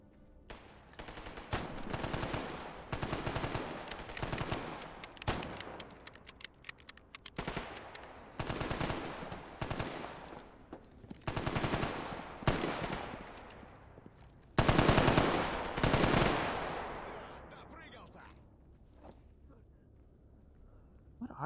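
Rapid bursts of automatic gunfire from a video game come in repeated loud volleys separated by short pauses. The final burst is the heaviest, and it is followed by a fading tail.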